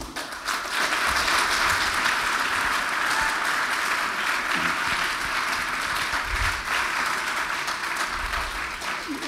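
Sustained applause from a large audience at an evening event, a dense, steady roar of clapping that holds loud for the full stretch with a few low murmurs underneath.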